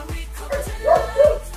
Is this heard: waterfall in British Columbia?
no